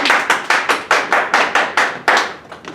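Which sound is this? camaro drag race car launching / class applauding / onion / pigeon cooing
class applauding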